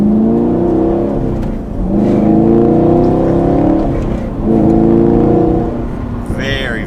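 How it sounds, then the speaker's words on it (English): A 2019 Chevrolet Camaro SS 1LE's V8 exhaust, valve open, rumbling loudly up close, revving in two strong surges of acceleration with a deep, throaty growl. "The exhaust valve's open. You can hear it a little bit better."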